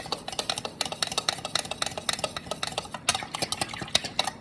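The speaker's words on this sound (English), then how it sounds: "put it right in it, right into that flour. I would say about half a cup, and just blend it in together" Flour is briskly stirred into a mixture in a bowl for chicken cutlets, a fast, steady run of close rhythmic scraping and tapping strokes with no voices.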